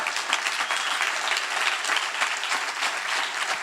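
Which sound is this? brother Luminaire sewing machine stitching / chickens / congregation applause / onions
congregation applause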